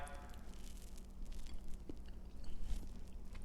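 Someone bites and chews crispy oil-free baked tofu pieces, fresh from the oven. The close, moist crunches and chewing are fairly quiet.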